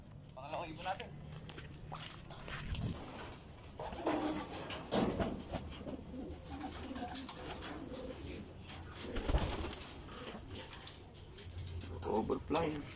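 Racing pigeons coo softly at a loft as they come in from a race, mixed with outdoor bird calls, footsteps and someone speaking in the background.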